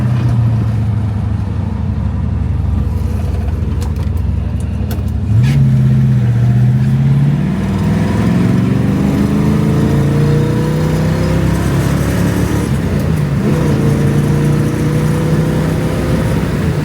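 A 1965 Ford Mustang K-Code Fastback engine accelerates while driving, recorded from inside the car; the loud engine drone rises through the revs, drops with a gear change, then climbs again.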